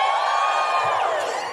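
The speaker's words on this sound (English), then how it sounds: "Just give us a cheer." A live audience at a recorded show in Auckland, New Zealand cheers and whoops loudly, a dense burst of many voices sustained throughout.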